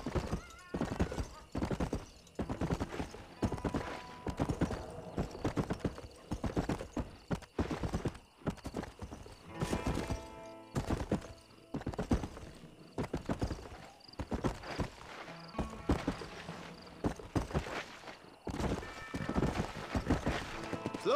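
In the video game Red Dead Redemption, a horse gallops with steady rapid clip-clop hoofbeats and lets out neighs, a dense continuous rhythm heard up close, with faint speech in places.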